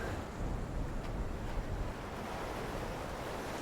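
Ocean waves wash in a video game's Surtr's Domain area, a steady roar of surf with wind-like noise, moderately loud and continuous with slight swells.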